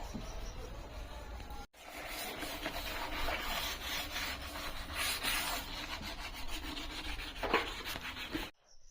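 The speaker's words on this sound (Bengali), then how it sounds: "দুশো কুড়ি নম্বর ওয়াটার প্রুফ পেপার দিয়ে ভালো করে ঘষে নিয়েছি" Teak wood hand-sanded with 220 grit waterproof sandpaper, a steady, close, continuous rasping rub with one brief pause early on and an abrupt stop at the end.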